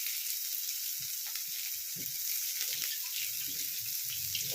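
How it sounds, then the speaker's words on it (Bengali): Onions frying in a pan give a steady high hiss of sizzling oil, close and fairly soft, with faint low knocks and clatters from the pan scattered underneath. "এবার পেঁয়াজটাকে আমি একটু লালচে করে ভেজে নেব।"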